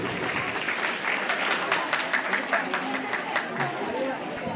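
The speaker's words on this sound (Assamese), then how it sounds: "আটাইৰ পৰা এটা হাত চাপৰি বিচাৰিলোঁ" Steady applause from an audience at a college spring festival where a Jeng Bihu dance troupe is being honoured, a dense continuous patter of many hands at moderate volume, with faint crowd chatter mixed underneath.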